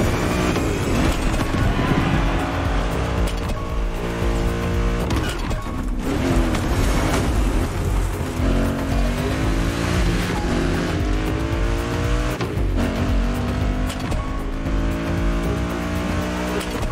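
BMW Z4 M40i roadster in The Crew Motorfest, engine roaring loud and continuous with revs rising and falling through repeated gear shifts, and brief tire noise.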